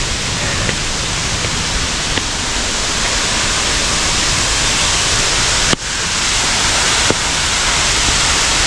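Rainbow Falls waterfall roaring at close range, a dense, steady rush of falling water that fills the whole scene without pause, with only a couple of faint knocks breaking through.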